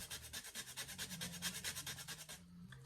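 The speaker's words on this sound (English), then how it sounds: "now I'm just gonna grate this dried mushroom right over the top" Dried mushroom grated over a bowl of creamy cremini mushroom soup: a quiet, rhythmic rasping scrape repeating about five times a second, close and soft, with no one talking.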